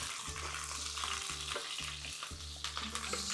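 Broccoli frying in a pan for a beef and broccoli dish, giving a steady close sizzle with stirring scrapes and a low hum running underneath.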